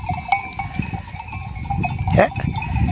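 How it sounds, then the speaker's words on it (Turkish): Sheep bleating outdoors in harsh winter snow while grazing on rocks, a few short bleats and a louder call near the middle, with a soft background bed and a faint clank like a bell. "koyun taşta yumuşağını yiyor"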